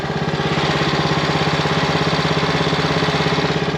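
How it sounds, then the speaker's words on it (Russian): A Hangkai 7HP four-stroke outboard motor idles steadily and close by, its fast, even chugging pulse holding constant throughout with no voices. "Мотор работает в холостых оборотах."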